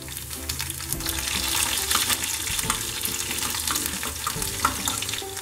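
Crushed garlic frying in a mustard and cumin tempering, a continuous close sizzle with bubbling crackle and occasional stirring clinks, loud and steady throughout.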